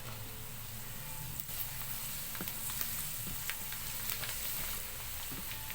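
Garlic sizzles in hot oil in a pan that already holds ginger, a steady close crackle running throughout with occasional sharper pops and faint stirring clicks.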